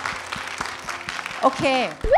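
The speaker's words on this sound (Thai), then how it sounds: "ดีมากค่ะเสียงปรบมือหน่อยค่ะ" Audience applause at a foodpanda talk event forms a dense, steady patter, with a voice speaking over it and louder talking near the end.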